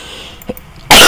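A single loud, close cough bursts out abruptly at the end after a moment of near quiet.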